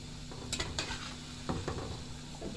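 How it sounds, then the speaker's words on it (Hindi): Mangochi, Indian lentil dumplings, frying in oil in a pan at medium heat, with a steady close sizzle and occasional sharp scrapes and clinks of a spoon stirring them. "ये देखिए हमारी मंगोतियाँ बहुत अच्छे से फ्राई हो गई हैं।"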